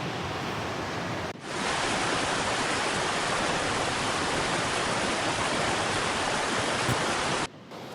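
Rushing water of the St. Louis River just below Lake Superior, a loud, steady broadband roar that starts abruptly, holds constant for about six seconds, then cuts off.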